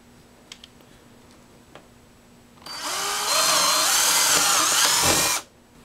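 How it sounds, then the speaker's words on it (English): A power drill with a 3/16-inch bit whirs loudly for about three seconds, its pitch wavering as it bores straight down into a wooden board, after a few faint clicks in an otherwise quiet room. "Use a 3/16 bit and drill straight down."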